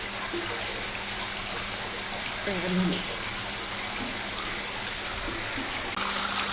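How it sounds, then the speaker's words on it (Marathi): Tap water runs steadily as dishes are washed in a home kitchen. The hiss is broad and constant and fills the whole stretch, with faint clinks and a brief murmur of voice beneath it. "चाललं बघा पाणी आणि लास्ट काम आहे क्लिनिंगचं"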